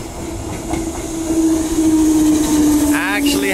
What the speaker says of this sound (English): Here comes the Perth train